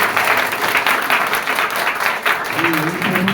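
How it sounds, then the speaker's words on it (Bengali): Seminar audience applauding a trainer at a business event, a dense steady wash of clapping sustained throughout, with a few voices rising near the end. "স্যারের জন্য একটা সর্বোচ্চ করতালি আশা করছি"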